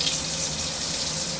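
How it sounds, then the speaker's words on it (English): Tap water runs steadily into a kitchen sink while a pot is being washed, a continuous close hiss and splash with no talk. "get this pot washed"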